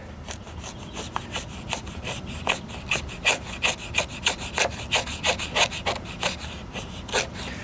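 A Schrade SCHF56L fixed-blade knife scraping along wood to carve shavings and feather sticks, a rhythmic series of about twenty close, rasping strokes with no talk.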